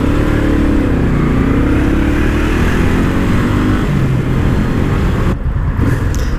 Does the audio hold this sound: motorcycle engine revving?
yes